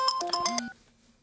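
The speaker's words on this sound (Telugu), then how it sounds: "ఈ టైంలో ఫోన్ ఎవడు బావా?" A telephone rings late at night, a short burst of bright electronic ringtone tones up close before dropping to a faint, steady low tone.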